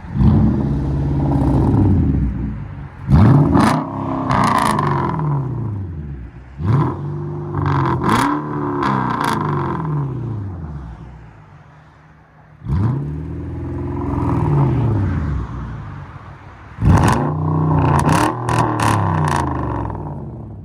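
A throaty 5.0 V8 engine in a Hyundai Genesis revs up and down repeatedly, deep exhaust rumbling in rising and falling sweeps, close and loud with short pauses between.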